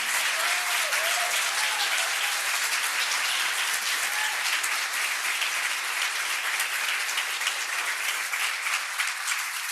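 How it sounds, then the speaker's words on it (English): A large audience at a graduation event gives sustained, dense applause for the graduates, steady and loud from start to finish, with a few faint voices under the clapping. "Please join me in giving one more round of applause for our graduates."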